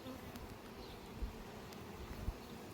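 Honeybees buzzing around an opened hive during an inspection, a faint, steady hum with a few brief thumps, no talking.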